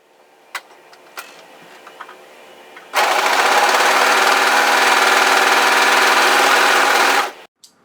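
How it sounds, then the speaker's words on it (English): An overlocker runs steadily at speed, serging the unnotched edge of a knit tee cuff placed right sides together, a loud even whir lasting about four seconds after a few quiet handling clicks. "we're going to overlock the unnotched edge"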